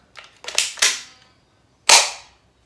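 An M43 Gilboa gel ball blaster pistol fires four sharp, snappy shots: three in quick succession, then a pause and one more, loud and close.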